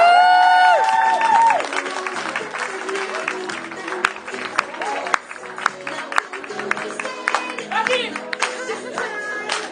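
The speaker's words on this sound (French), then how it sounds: "un tonnerre d'applaudissements pour" An audience applauds at a live show at the Dock Yard, a loud wash of clapping and crowd noise following a burst of music that fades out at the start.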